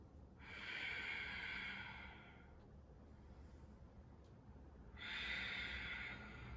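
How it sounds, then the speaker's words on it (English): Slow, deep yoga breaths, heard as two long airy inhale-exhale swells separated by a quieter pause, close and soft with no talking. "So let's hold this one for 3 breaths."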